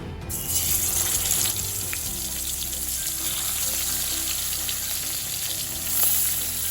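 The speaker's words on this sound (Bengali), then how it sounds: "দিয়ে আমি একটা একটা করে মাছ দিয়ে দেবো ভাজার জন্য।" Koi fish frying in mustard oil in a wok over a medium-high flame, a continuous loud hiss and crackle that runs steadily throughout with no talking.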